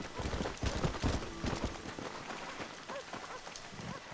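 Horse hooves galloping in Red Dead Redemption, a steady drumming of clip-clop beats layered over a dense, rain-like wash of game ambience, fairly loud and with no talk over it.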